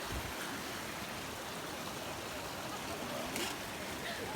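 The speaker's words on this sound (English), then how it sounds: "We have made it down to the Chattooga River. It is beautiful." The Chattooga River rushes steadily near Opossum Falls, a dense, constant broadband wash of flowing water heard close and without pause.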